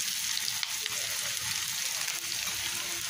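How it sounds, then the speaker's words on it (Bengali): Onion and garlic fry in hot oil with a steady, close sizzle that crackles evenly throughout, never pausing, before shrimp go in. "তাই এখানে তেল দিয়ে দিয়েছি আর পেঁয়াজ রসুন দিয়ে দিয়েছি, একটু ভেজে নেবো"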